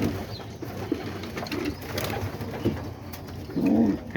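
Homing pigeons and roller pigeons coo in soft, low, repeated phrases close by, with a fuller burst of cooing at the end over faint background noise.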